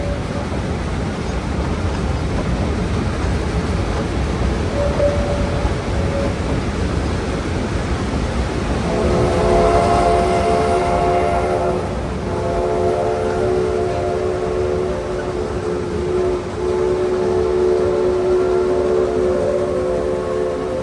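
A Yosemite Mountain Sugar Pine Railroad steam locomotive, number 15, sounds its whistle at a distance. Long, wavering tones rise above steady train rumble and open-air background noise, with a short break between blasts.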